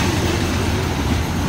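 Ordinary train 262 from Hua Hin to Bangkok rolls into Nakhon Chai Si station, a loud, steady rumble of wheels and carriages filling the whole moment with no voices.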